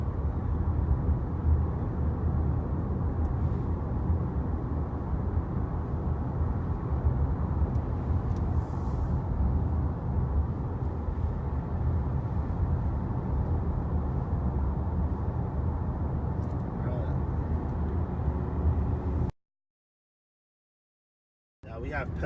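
Steady low road rumble and tire noise fill the cabin of a 2018 Honda Clarity Plug-In Hybrid on the move through a curve, constant and moderately loud, then cutting off abruptly before resuming.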